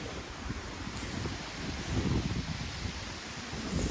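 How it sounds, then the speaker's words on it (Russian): Strong stormy wind buffets a microphone outdoors, a steady roar with gusts that swell louder around the middle and end, with no talking. "Но вот этот ветер, он совсем нам не нужен."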